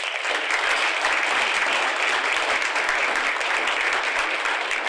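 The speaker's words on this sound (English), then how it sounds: "Give them all a round of applause." A crowd applauding steadily at an induction and recognition event, a dense, even wash of clapping that holds at full strength from start to finish with no voices.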